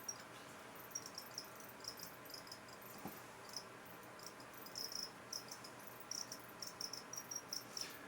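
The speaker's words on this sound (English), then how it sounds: "You might hear crickets also." Crickets chirp in short, repeated trills against a quiet background, fairly faint and irregular, with no voices.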